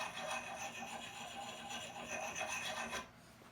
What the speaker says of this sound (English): I can get right up to the edge of the stone, just in a circular motion